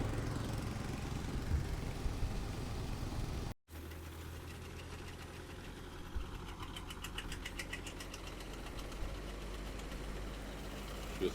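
An MTZ 892 tractor engine is started and then runs on, a steady low diesel rumble with knocking vibration after a brief cutout, close by and without talk.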